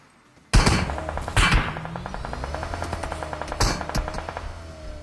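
Sharp gunshots crack out in a video game after a brief quiet, followed by rapid bursts of automatic fire and a few more heavy shots, loud and close.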